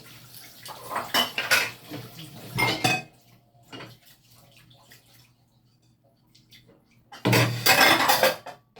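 Pots, dishes and cutlery being washed in a home kitchen sink before cooking lunch, with clattering and scraping in two loud bursts at the start and end, separated by a quieter stretch of faint water and occasional clinks.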